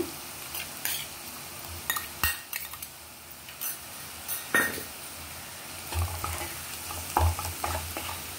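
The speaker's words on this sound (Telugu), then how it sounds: "ఇప్పుడు ఉల్లిపాయల్లో బాగా కలపాలి." Garlic chili powder stirred into onions frying in a pan, with soft sizzling under intermittent scrapes and clinks of a metal spoon against the pan, close and moderately quiet, no speech.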